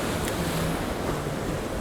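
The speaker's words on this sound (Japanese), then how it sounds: "おー、いい波が来ております。" Ocean surf rolling onto a rocky winter shore, a steady broadband wash of breaking waves with wind noise at the microphone, continuous and fairly loud with no voices.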